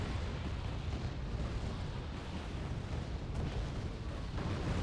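Bombing run explosions in the Wargame: Red Dragon video game, a dense, continuous roar of blasts and rumble that stays loud and steady throughout.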